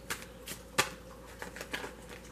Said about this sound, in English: I'm going to start shuffling the other deck.